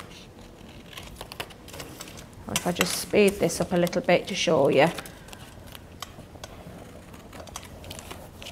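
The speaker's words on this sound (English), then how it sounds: "So take your scissors, follow that curve around." Scissors snip around the curve of a card border cut with a decorative die, a quick run of sharp little clicks close by, with someone talking over the middle of it.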